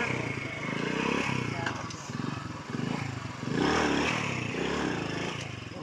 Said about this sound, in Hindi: और जी हम दूध लेने आए हैं तो मोटरसाइकिल फंस गई है